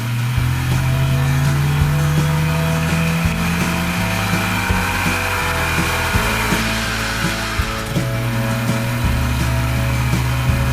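A Wartburg car from the East German car tuning scene is driven at speed. The engine drones loudly and continuously, its pitch rising and dropping sharply as the revs change, with no talking.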